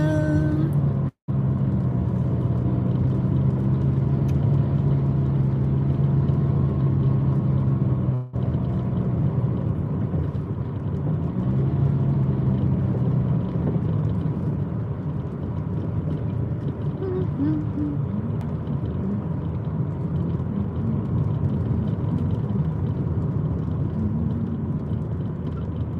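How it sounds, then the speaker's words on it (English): Cars passing on a road through rocky, wooded Canadian country, heard as a steady rumbling drone that swells and fades, with a brief dropout early on and faint background noise. "Pull over and let this car, 2 cars now, go by."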